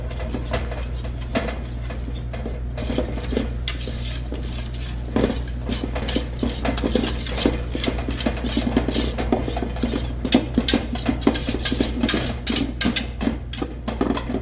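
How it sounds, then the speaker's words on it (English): A heavy duty whisk clatters against a pot while mixing flour into boiling éclair dough, producing rapid, irregular metallic tapping and scraping close by over a steady low hum, with no talk. "with a heavy duty whisk, we're going to go ahead and bring this together"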